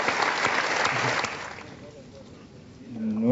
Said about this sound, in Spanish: se merecen este aplauso